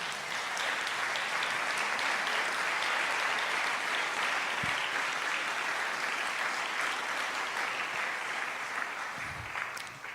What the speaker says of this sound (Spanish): ¿Le podemos dar un aplauso al Señor, hermano?